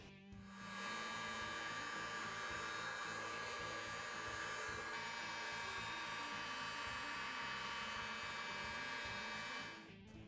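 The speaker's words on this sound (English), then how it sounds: "So what we're going to do is just use a heat gun" Heat gun warming the engine case of a KTM 690 or Husqvarna 701 engine during bottom-end disassembly, a continuous loud whirring blower hum held steady for about nine seconds before cutting off.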